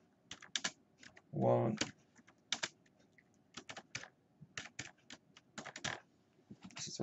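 Typing on a computer keyboard: quick, light key clicks in irregular clusters across the whole stretch, close and fairly quiet, with one short spoken word partway through.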